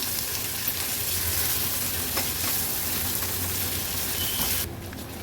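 Chopped onion frying in a pan over a low gas flame while cooking a Maharashtrian veg thali, giving a steady, close sizzle throughout with no talk, cutting off abruptly near the end.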